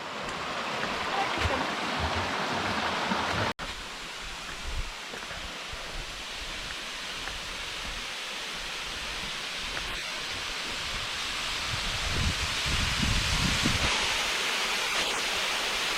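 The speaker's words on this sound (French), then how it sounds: "Voilà, nous sommes arrivés à la cascade du voile de la mariée." A small waterfall, the Cascada Velo de la Novia near Samaipata in Bolivia, gives off a steady broadband rush of falling water. It stays constant and fairly close, with faint background rustling.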